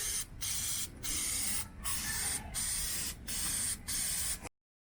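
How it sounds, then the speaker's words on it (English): Air filter oil sprayed onto a cleanable K&N air filter in a series of short, close hissing bursts with brief gaps between them, ending abruptly in silence. "take our air filter oil and give this filter"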